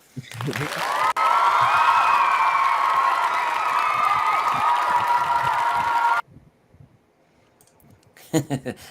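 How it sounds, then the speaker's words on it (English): An audience cheers in a sustained, loud burst of shouts and whoops for several seconds, then stops suddenly, leaving quiet with a few brief noises. "we'll have to give you a Who Pet cheer for that"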